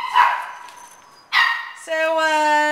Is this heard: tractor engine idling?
no